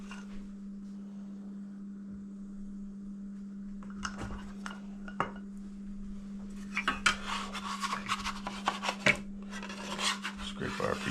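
Pie dough for a homemade apple pie scraped off a work surface, with soft rasping scrapes and light taps growing busier toward the end over a steady low hum, close and quiet.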